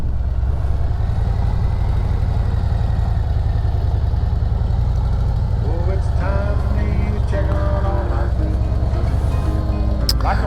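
A Harley-Davidson Road Glide motorcycle engine rumbles steadily and close with a deep, constant low throb, holding a near-even idle-like note throughout while faint higher tones flicker in partway through.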